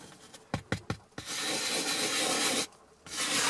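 A brush rubs a damaged, scratched leather seat in a circular motion, starting with a few sharp strokes and then running into a long, steady, close scrubbing noise that pauses briefly before resuming.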